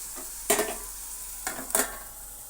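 Ridge gourd frying in a pan, a soft steady sizzle broken by a few bursts of scraping and stirring against the pan, close and alone without speech.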